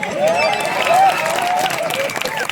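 A small crowd claps and cheers at a village comedy stage show, the applause steady and fairly close, with a mix of voices and babble under it.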